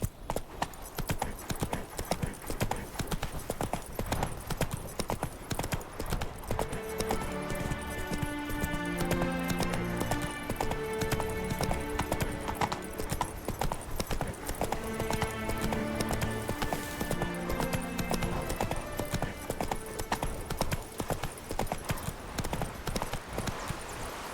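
Roach, Geralt's horse in The Witcher 3, trots with steady clip-clop hoofbeats and gives an occasional whinny. Game music plays underneath throughout.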